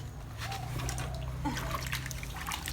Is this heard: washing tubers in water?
yes